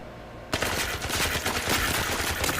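Rapid automatic gunfire from a player's own weapon in a shooter video game, starting abruptly after a half-second of quiet and hammering on as a loud, dense burst that fills the rest of the clip.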